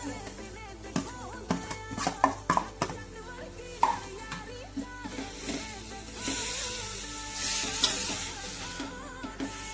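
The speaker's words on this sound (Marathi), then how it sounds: "सर्व एकजीव करून घेऊया आणि हलकासा 2 ते 3 मिनिटे याला परतून घेऊया।" Shredded cabbage and other vegetables are sautéed in a pan for momo filling. Close spoon scrapes and knocks clatter irregularly over a steady sizzle, which grows brighter and louder toward the end.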